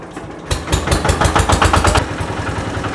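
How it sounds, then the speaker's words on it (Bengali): A shallow irrigation pump engine, the kind sold for farm use, catches after a brief quiet moment and settles into a loud, steady, rapid thumping run close by. "আগে দেখেন ইঞ্জিনের সাউন্ড পছন্দ হয় কিনা"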